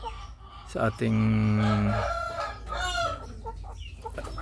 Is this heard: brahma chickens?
yes